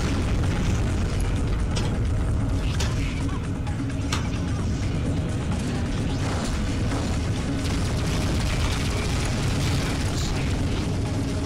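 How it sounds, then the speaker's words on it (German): A continuous, dense roaring rumble with crackling bursts, like a sustained explosion in the space game Freelancer, loud and unbroken throughout. "Wieso explodiert die da?"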